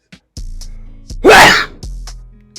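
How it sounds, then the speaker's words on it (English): A single loud sneeze bursts out between short voiced breaths and murmurs, close to the microphone. "Oh, I gotta sneeze."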